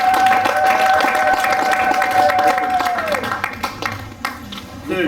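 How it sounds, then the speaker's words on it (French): Wedding audience clapping and cheering for the paternal family side, steady crowd applause with a sustained musical tone over it at first, then thinning out, under talk. "On peut applaudir pour les côtés paternels."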